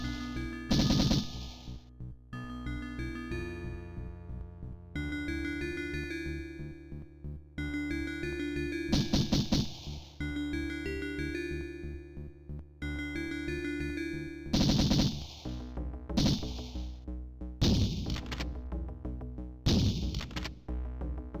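Bursts of Uzi submachine gun fire in the Syndicate video game, loud short volleys recurring every few seconds and clustering toward the end over a steady, continuous music bed.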